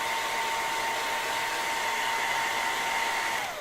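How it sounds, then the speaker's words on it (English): A hair dryer runs steadily throughout, a loud, even whirring whine close by with no talk, used while making foam hands, fading slightly at the very end. "Hair dryer."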